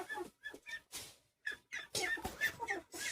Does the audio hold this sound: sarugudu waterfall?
no